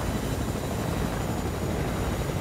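A helicopter in a video game: a continuous, loud whirring rotor drone that holds steady throughout, with no speech over it.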